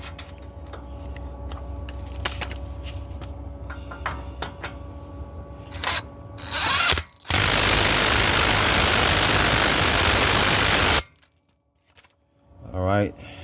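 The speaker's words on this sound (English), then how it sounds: "I'm going to tighten up this castle nut down here first." A castle nut on a car's tie rod is tightened: a steady run of ratchet-like ticking, then one loud, continuous tool burst lasting about four seconds, which stops abruptly. No one talks.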